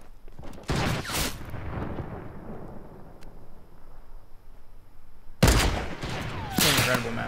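Heavy sniper rifle shots in the Fortnite video game, two loud cracks with trailing echoes a few seconds apart.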